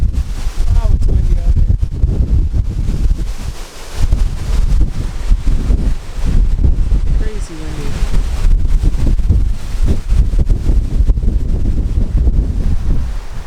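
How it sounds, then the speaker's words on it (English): Strong wind buffeting a microphone outdoors beside a bay house, a loud continuous rumbling roar with brief lulls, under occasional faint talk. "Wow, it's windy out here."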